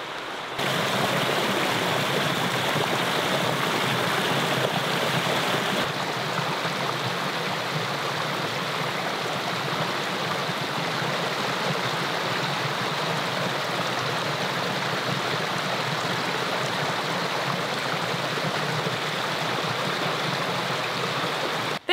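A river flows steadily with a continuous, broad rushing of water close by, even and unbroken throughout, with no voices.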